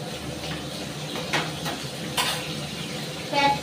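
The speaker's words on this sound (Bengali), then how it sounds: "আর এইদিকে মাছ ভাজাটা বসিয়েছি" Fish frying in a pan on a home stove, a steady soft sizzle with occasional louder crackles and a few clinks of utensils. A voice speaks faintly now and then.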